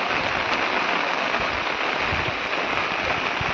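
Heavy rain in the Konkan falls in a steady, dense hiss that stays loud and even throughout, with no voices.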